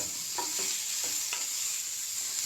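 Onions and radish fry in a pan for a radish chutney, a constant close sizzle with a few quick stirring scrapes and clicks.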